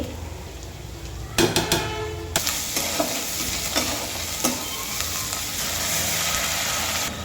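Large-cut carrots and ginger-garlic paste sizzling in ghee, a continuous frying hiss broken by several clanking stirs of a spoon against the pot, close and fairly loud, no talking.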